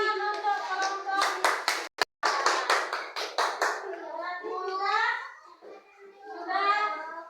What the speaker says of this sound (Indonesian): Iya, tepuk tangan untuk kelompok.